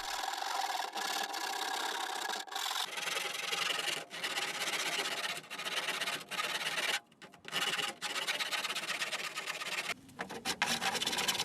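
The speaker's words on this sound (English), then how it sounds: "and then filing and planing the shears smooth." Strips on a wood strip kayak are filed smooth with a hand file in repeated rasping strokes, close and continuous with brief pauses, no talk.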